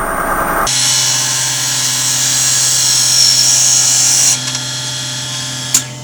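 A wood lathe turning at about 600 RPM while a bit, likely the spade bit, bores into a wooden baby rattle blank, giving a steady, loud whining drone that drops off near the end, followed by a short knock.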